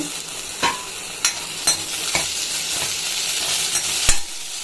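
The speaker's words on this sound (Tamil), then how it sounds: "இந்த தக்காளி வெங்காயம் பூண்டோடு வதங்கட்டும் நல்லா" Tomato, onion and garlic sauté in a pan for a chutney, a steady close sizzle with several sharp stirring scrapes spaced through it and no voices.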